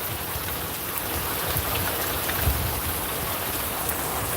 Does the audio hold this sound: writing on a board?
no